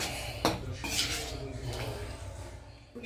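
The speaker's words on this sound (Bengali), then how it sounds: "এই স্প্যাচুলাটা দিয়ে কিন্তু কড়াইয়ের গাটাকে বেশ ভালো কাচিয়ে নেওয়া যায়।" Metal spatula scraping the sides of a wok after cooking potatoes in gravy, a run of close clanking and grinding scrapes with sharp metallic knocks, busy and continuous.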